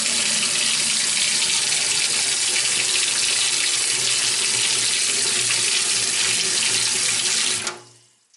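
Water pours steadily from a tap into a kitchen sink, a loud continuous rush that cuts off abruptly near the end.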